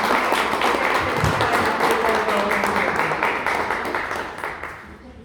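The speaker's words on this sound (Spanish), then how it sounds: "Un aplauso fuerte." An audience at a cultural decoration ceremony breaks into loud, dense applause that carries on steadily, then thins and fades toward the end, with a voice speaking over it.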